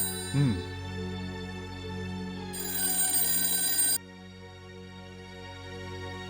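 A telephone bell rings in one sharp, bright burst of about a second and a half in a Hindi film scene, set against a sustained background music score.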